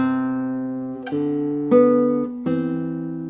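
Classical guitar plays slow two-note intervals, an octave, a seventh, then sixths, four plucked chords in steady succession, each ringing into the next as suspension dissonances resolve.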